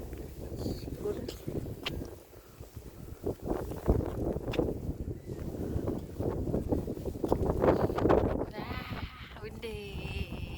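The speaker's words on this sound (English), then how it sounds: "Ah, windy." Gusty wind blows outdoors on a walk on a windy day, rumbling and buffeting the microphone steadily throughout, with a person talking at times underneath.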